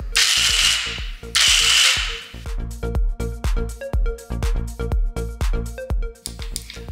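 Blendjet 2 portable blender grinding nuts into nut butter: a loud close motor whirring in short repeated bursts with rattling and knocking, rhythmic pulses through the whole stretch.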